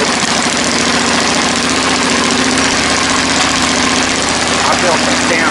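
A homemade tractor engine runs steadily on a trail ride, a loud, even, rumbling drone that holds without a break from start to finish, close to the listener.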